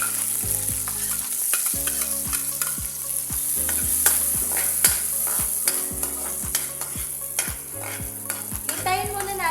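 Onion and garlic fry in a pan with oil for a vegetable dish: a continuous close sizzle with spoon-stirring clatter throughout, under steady background music.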